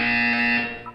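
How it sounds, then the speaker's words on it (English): A Portal 2 test chamber buzzer sounds once, a loud, steady harmonic electronic drone lasting most of a second before cutting off. "You will hear a buzzer."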